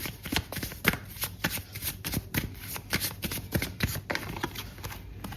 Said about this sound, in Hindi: नाउ सरस्वती, पहले हम सबकॉन्शियस माइंड के कार्ड्स और ले लेते हैं